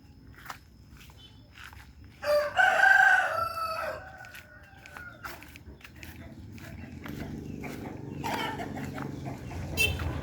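A fighting rooster crows loudly nearby, and later a second crow comes faintly, amid clucking chickens, footsteps and a speaking voice.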